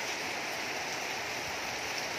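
Steady rain falls outdoors where geese are playing in it, a dense, even hiss of drops with no other sounds standing out.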